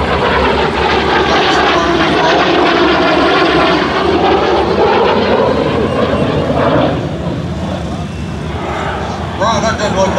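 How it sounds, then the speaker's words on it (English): An L-39 Albatros jet trailing smoke at the 2014 Culpeper Air Fest, its loud engine roar rising and shifting in pitch as it passes, with people talking over it. "It looks like a pretty high performance jet."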